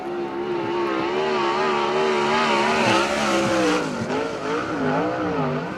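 Race car on a qualifying lap at a USAC Western World Championship sprint event, the engine a loud, sustained whine that rises and falls in pitch through the corners, with faint tire noise and no talking.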